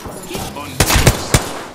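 Several sharp gunshots crack in rapid succession, loud and punchy, in a short burst of gunfire in the video game Apex Legends.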